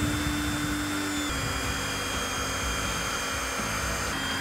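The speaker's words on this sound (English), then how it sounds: "Now we're going to use this 210-pound steel hydraulic drive system and the ram to drive steel pipe down to load-bearing soil" A 210-pound steel hydraulic drive system and ram push steel pipe down to load-bearing soil during foundation push pier installation. It makes a loud, continuous mechanical drone and whine with a steady hum throughout, and no voices.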